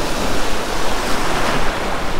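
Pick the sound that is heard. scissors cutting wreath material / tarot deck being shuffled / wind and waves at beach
wind and waves at beach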